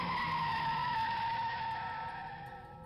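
Car brakes lock up in a sustained tire skid, a loud squealing screech that holds for a couple of seconds and then fades, with no voices.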